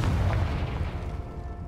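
A Confringo blasting spell goes off in Hogwarts Legacy as one heavy, booming blast that rolls into a low rumble and fades over about a second and a half, with no talk.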